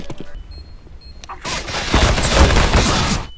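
Gunfire in a first-person shooter video game: dense, loud bursts of rapid shots rising after a quieter start and sustained to the end, with faint game sounds beneath.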